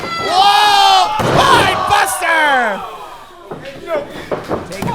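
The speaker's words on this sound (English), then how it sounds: "you heard this whole crowd" Wrestling crowd at a live show erupting in loud shouts and cheers that rise and then fade into scattered yells and thuds.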